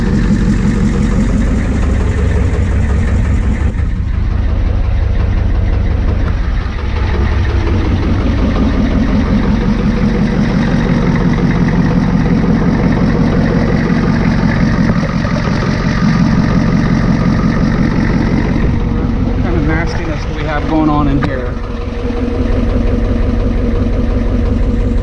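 A Ford F-350 with a 7.3 IDI diesel idles steadily after its first startup, a loud, close, low knocking rumble that holds even throughout.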